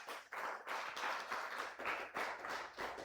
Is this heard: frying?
no